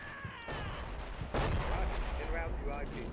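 30mm cannon fire in a tank combat video game, heard as a series of heavy bursts with a louder blast partway through, followed by continuing rumbling fire and faint game effects.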